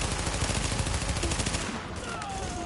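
Rapid automatic gunfire in the video game The Division, a dense sustained burst of shots played loud and continuous, thinning slightly toward the end.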